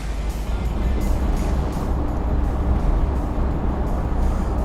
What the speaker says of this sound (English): This is the typical engine sound in these cars.